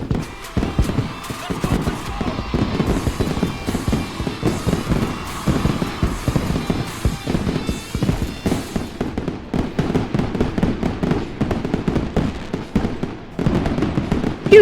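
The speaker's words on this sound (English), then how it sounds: "Look at that fireworks display." Dense crackling fireworks display heard through a live stream, with rapid overlapping pops, bangs and fizzing bursts continuing without a break at a loud, steady level, and some faint speech mixed underneath.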